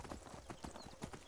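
Horse hooves clip-clop in the Skyrim video game, a quick run of evenly spaced, fairly loud hoofbeats over a brief stretch with no talking.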